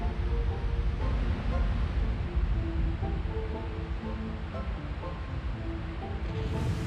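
Water ambience from a water temple in the video game Skies of Arcadia: a steady, dense rushing wash that continues without a break for the whole stretch, with faint tonal layers underneath.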